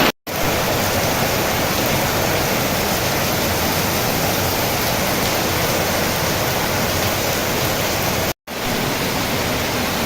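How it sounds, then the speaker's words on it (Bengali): Heavy rain pours outdoors as a loud, steady, unbroken roar, cut only by two brief dropouts. "শুধু বৃষ্টি আর বৃষ্টি।"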